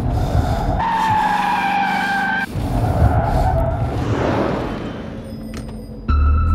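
A car skids and squeals its tyres as it pulls over to a sudden stop in a Telugu action movie scene, loud and close with a steady engine roar throughout.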